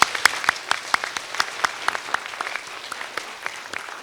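Audience applause for award recipients at a 2023 awards ceremony, a moderate, steady patter of many hands clapping with sharp individual claps standing out, continuing for several seconds.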